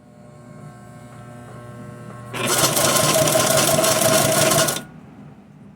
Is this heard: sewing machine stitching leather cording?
yes